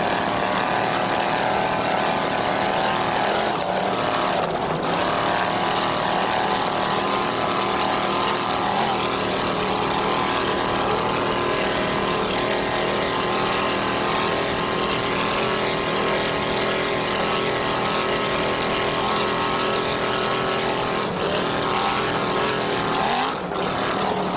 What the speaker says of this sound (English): Let's listen to that one 600 horsepower Teague inboard.